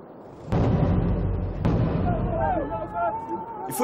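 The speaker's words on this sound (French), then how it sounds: "des explosions ont lieu alors même que des hommes entrent dans le tunnel" Dynamite blasts inside a gem mine tunnel: two sharp, loud detonations a second apart boom and rumble through the enclosed space, followed by lingering rumble and a voice shouting.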